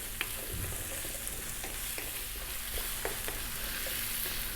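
Sweet potato pieces fry over above-medium heat in a pan, held at a quiet, steady sizzle. Light scraping clicks from the stirring come at irregular intervals, with no talking.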